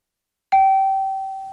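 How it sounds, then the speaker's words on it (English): A single doorbell chime at the CSE help desk, one clear ding that rings out and slowly decays, heard alone with no talk. "how many times does the CSE help doorbell ring each day?"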